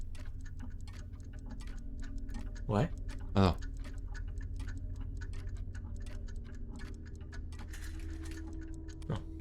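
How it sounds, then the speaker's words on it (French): A clock ticking steadily indoors in a large, quiet house during a horror-themed night event, a faint regular tick running under background hum, with people briefly speaking and a couple of loud whooping sounds. "On entend une horloge."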